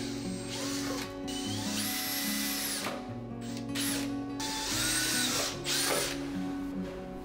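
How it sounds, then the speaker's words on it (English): A power drill with a 5 mm bit bores holes into a plastic container, its motor whining in repeated close, loud bursts that rise in pitch as each run speeds up. "I used a 5 millimeter drill bit and drilled 4 holes"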